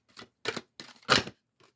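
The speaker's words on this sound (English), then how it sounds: "Here, let me shuffle these." Tarot cards are shuffled by hand in four short, papery bursts, close and fairly quiet, with brief pauses between them and a faint final flick.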